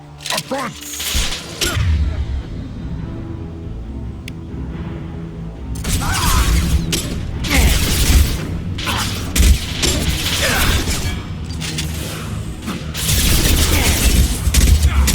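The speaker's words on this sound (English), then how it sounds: "Taking heavy fire!" Heavy gunfire in Mass Effect 2 combat, bursts of shots and impacts crackling in dense clusters over a rumbling background, interrupted by shouted voices.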